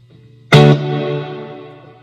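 A single guitar strum through a Fender '68 Custom Vibro Champ with the spring reverb set around 4, struck loud and close, then ringing out in a long, smooth reverb tail.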